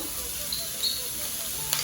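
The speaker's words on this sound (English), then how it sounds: "grease is hot here. I'm going to have to use one of these, but let's see. There you go, that's sizzle." Chopped onions frying in hot grease: a steady sizzling hiss, continuous and close, with a faint clink near the end.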